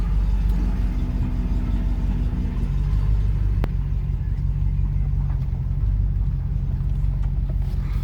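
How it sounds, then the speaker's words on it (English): A 1994 Range Rover reverses with a steady low engine rumble and drivetrain drone, heard close from inside the cabin with no talking. "Into reverse, handbrake off. Back we go."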